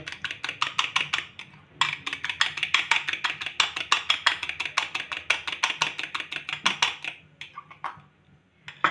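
Eggs being whisked with ground pepper and salt in a bowl for a fish fry, a quick steady run of light clicking strokes close by with brief pauses, no talk.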